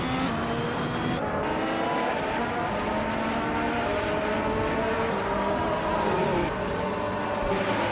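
Video game Formula One race cars, including a Toro Rosso STR11, screaming continuously at high revs, with several engines layered and shifting pitch as they race, loud and steady from start to end.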